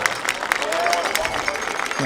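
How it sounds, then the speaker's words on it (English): A crowd at a high school football night applauds student athletes in a dense, continuous patter of clapping, with an announcer's voice carrying over it. "Student athletes are giving a big round of applause for their hard work"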